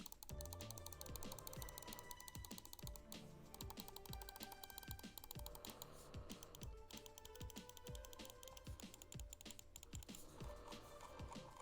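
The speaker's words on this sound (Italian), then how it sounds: "Andiamo a sentire velocemente i tasti, così i click" Rapid, steady clicking of the buttons on a Cherry Xtrfy M68 Pro 8K gaming mouse, close up and quiet, a dense stream of sharp taps with no talking.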